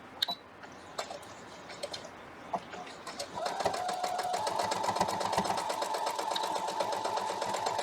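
Sewing machine back stitching fabric on a foundation paper piecing block, starting with a few scattered clicks, then a steady, fast rhythmic stitching whir that runs on close and alone.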